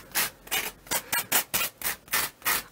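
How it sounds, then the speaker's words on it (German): Sanding the edges of a homemade concrete bowl: a fast, regular series of about nine rasping rubbing strokes, close and fairly loud, with no talking. "Wir ziehen uns die Folie runter und dann schleifen wir die Kanten."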